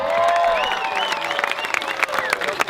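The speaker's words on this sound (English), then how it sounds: "How about a big round of applause for Mr. Brian Miller?" Applause from a crowd, steady clapping with some cheering mixed in, fairly loud and sustained throughout.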